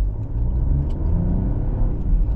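A 2024 Buick Envista Preferred with a turbocharged three-cylinder engine pulls away under acceleration, giving a steady, loud, close rumble of engine and road noise with no voices.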